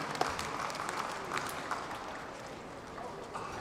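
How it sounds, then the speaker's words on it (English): Audience applause for a youth dance group at a Vietnamese American community anniversary event, moderately loud scattered clapping with a few sharper individual claps, tapering slightly toward the end. "Let's give another warm round of applause for the Viet Steps youth."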